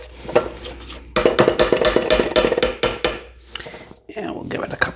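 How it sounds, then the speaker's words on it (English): Spatula scraping around a mixing bowl of pumpkin chocolate chip bread batter, close and loud, with a steady run of scraping and clinking strokes separated by brief pauses. "We'll give the bowl just a quick scrape."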